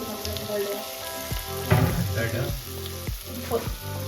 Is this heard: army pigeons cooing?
no